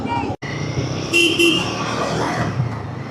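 Heavy road traffic on a multi-lane highway with trucks filling the lanes, engines rumbling close by as horns toot twice in quick succession, with the steady roar of passing vehicles continuing.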